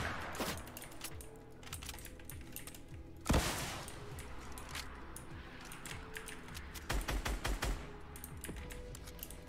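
Gunfire in Fortnite from an incoming opponent near a Scar rifle, scattered sharp clicks and cracks with a loud burst midway and a rapid cluster of shots near the end, without talk.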